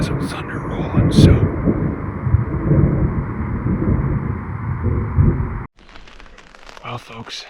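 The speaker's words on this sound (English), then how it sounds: "we got some thunder rolling, so." Thunder rolls through mountain country in the American West during an elk hunt, a loud, continuous low rumble lasting several seconds before it cuts off abruptly to quieter background sounds.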